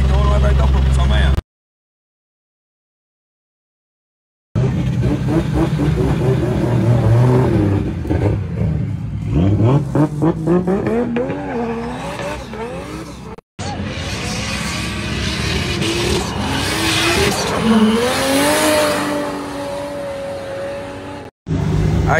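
Drift race cars rev hard during a closed practice session, engines rising and falling in pitch through several bursts, loud and close, with people talking over them and a couple of brief silent gaps.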